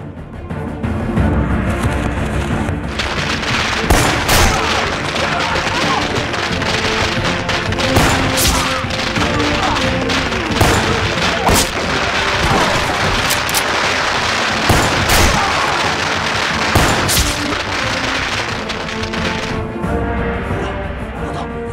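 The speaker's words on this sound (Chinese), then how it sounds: "点鞭炮" A long string of firecrackers set off on open, flat ground during a wartime ambush, a dense, loud, unbroken rattle of sharp bangs and crackles that runs for about twenty seconds before it stops.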